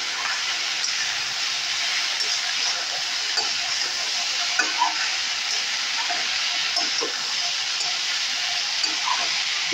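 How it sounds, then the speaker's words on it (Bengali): Tomatoes fry in a pan for a Bengali chachchari, giving a steady, even sizzling hiss with occasional faint stirring clicks, close and continuous without talk. "টমেটোটাও খুব ভালো করে আমি নেড়ে চেড়ে নেব।"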